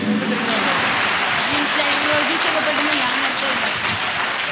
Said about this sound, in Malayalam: നന്നായിട്ട് കൈയടിക്കുക